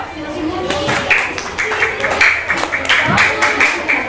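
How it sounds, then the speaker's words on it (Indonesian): A group claps together in a steady patter of applause, with voices mixed in underneath. "Ya, tepuk tangan dulu."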